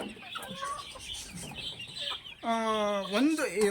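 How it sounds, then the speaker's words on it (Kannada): Country-breed chickens cluck close by, ending in a loud, drawn-out squawk, with faint voices in the background. "ಈ ಕೋಳಿಗಳೆಲ್ಲ ನಮ್ಮದು ನಾರ್ಮಲ್ಲು ಕಂತ್ರಿ ಜಾತಿಯ ಕೋಳಿಗಳು."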